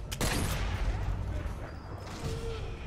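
A single sharp sniper rifle shot in Sniper Elite 4 cracks loudly at the start, followed by a rumbling echoing tail and low battlefield ambience.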